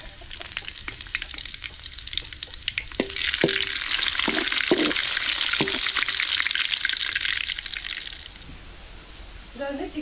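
Chicken frying in hot oil with cinnamon and other whole spices, a steady loud sizzle that swells midway, with sharp stirring clinks and scrapes from a utensil against the pan.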